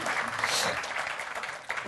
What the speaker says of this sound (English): Let's give a round of applause for that, folks.